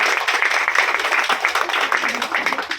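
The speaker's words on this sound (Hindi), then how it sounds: "मैं चाहता हूँ सिस्टर्स के लिए एक बार जोरदार तालियां सभी बजाएं" An audience applauds the nurses with dense, steady clapping that stays fairly loud and even for a few seconds, with no break in the sound.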